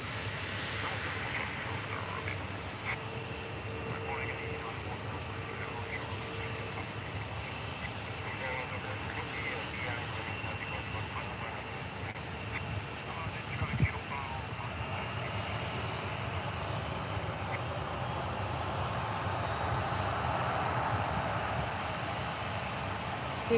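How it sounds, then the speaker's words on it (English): A Jet2 Holidays Airbus A321neo airliner arriving from Edinburgh at Faro airport, its engine roar a steady distant rumble that slowly grows louder across the clip over a constant outdoor background. "Here comes the Jet2 Holidays A321 Neo from Edinburgh."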